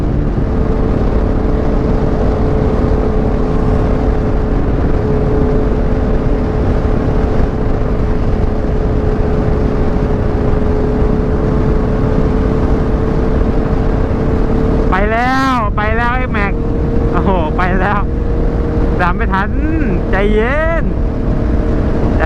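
A Yamaha MT-09 motorcycle being ridden, its exhaust a loud, continuous roaring drone heavily mixed with wind rush, with a few rising, wavering bursts near the end.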